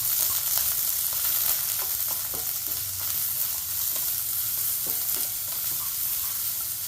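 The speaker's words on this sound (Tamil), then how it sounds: "சாம்பார் வெங்காயம் பூண்டு இதை போட்டு நம்ம வதக்க போகிறோம்" Small shallots, garlic and sliced big onion sauté in hot oil for Nagercoil-style tomato chutney, a loud, steady, close sizzle throughout with faint intermittent stirring scrapes and no voices.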